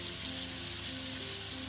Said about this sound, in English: This is a Chinese style stir fry.